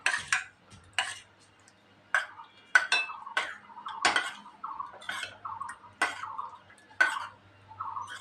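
Food colour being mixed into a rice-starch papad batter in a bowl: a spoon knocks and clinks against the bowl in a string of sharp, close taps at an uneven rhythm, with soft scraping between strikes.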